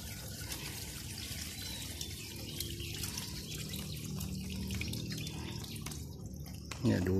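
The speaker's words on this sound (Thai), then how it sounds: "เดี๋ยวเทน้ำออก" Water trickles and drips steadily, then ends in a louder splash as it pours out.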